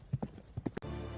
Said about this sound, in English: We riding a horse